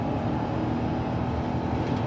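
Airbus A350 jet engines spooling up for takeoff in a flight simulator game, a steady, loud, dense broadband roar with a low rumbling drone, continuous and unbroken with no talk.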